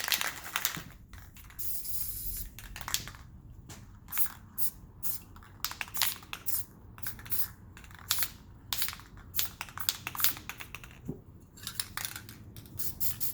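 Spray paint hisses in repeated short bursts onto the back of resin tile coasters, the close, loud sprays separated by brief quiet gaps and light handling clicks.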